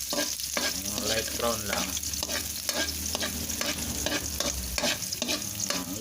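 Chopped onion sautés in a hot pan for a ginisang patola with misua and egg, sizzling steadily up close while a spoon stirs and scrapes in repeated strokes; a voice speaks briefly over the frying.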